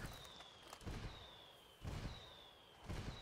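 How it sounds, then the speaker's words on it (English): Indirect fire explosions in the video game Ghost Recon Wildlands sound as a series of faint, muffled booms about a second apart, each a short burst of rumble, over a dull background tone. "I called the rebels for some indirect fire."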